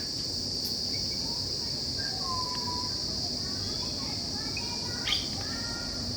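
Various birds call among the trees of the Patanjali herbal garden, scattered chirps and whistles over a steady high insect drone, fairly distant, with someone speaking through it.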